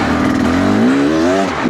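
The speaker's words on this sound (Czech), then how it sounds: "Vyjela sama ta motorka" An enduro motorcycle's engine drones loudly and steadily close by on an Alpine trail, its pitch rising as it pulls away.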